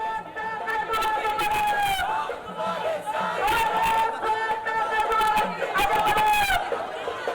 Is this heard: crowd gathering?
yes